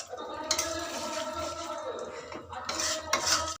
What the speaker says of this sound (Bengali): এবার আমি আর 2 মিনিট মতো নাড়বো